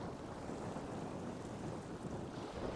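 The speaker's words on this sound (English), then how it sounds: "It's pretty windy, hopefully you can hear me." Wind blows along a shoreline where someone is shore jigging near Auckland, a steady low rushing noise with faint wave wash underneath, fairly quiet and unbroken, with no talk.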